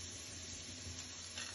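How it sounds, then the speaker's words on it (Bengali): Potatoes and carrots frying in a little oil in a pan, a faint, steady sizzle with no breaks and no talk over it. "অল্প তেলে সবজিগুলি আমি ভেজে নিব"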